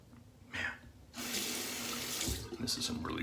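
A bathroom sink tap runs during a wet shave. A short splash comes first, then a steady, close flow of water with brief splashy bursts near the end.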